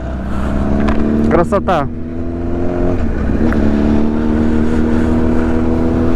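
Honda CBR 1000RR SC57 sport motorcycle engine idling and then revving with a rising burst, close and loud, with a steady engine drone throughout and a voice speaking briefly over it.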